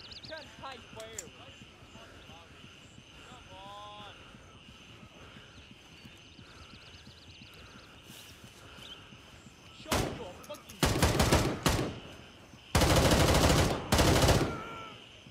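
Bursts of gunfire in the military shooter Gray Zone Warfare arrive late as loud clustered volleys after a quieter stretch of ambient game sound and faint movement, with someone talking in the early part.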